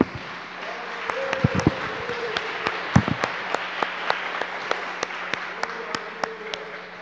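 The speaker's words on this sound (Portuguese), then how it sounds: "Dê uma salva de palmas bem forte para Jesus." A church congregation applauds at the close of a family worship service, a steady clatter of hand claps with sharp individual slaps standing out, while organ-like sustained tones hum underneath.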